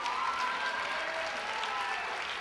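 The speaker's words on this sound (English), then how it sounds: "Give a round of applause, Lauren Gambino, everyone." An audience applauding at a dance performance, dense steady clapping filling the whole stretch at a fairly close, loud level.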